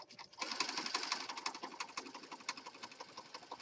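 A sewing machine stitches through junk journal pages, running steadily at close range with a fast, even needle rhythm for a few seconds and no voices.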